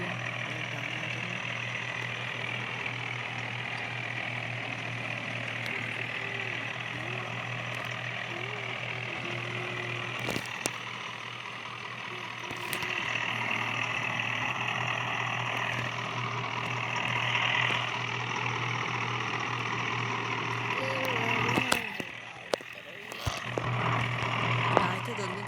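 A tractor engine runs at a steady idle nearby, its low, continuous rumble holding throughout, with occasional clicks and knocks and a slight rise in loudness near the end.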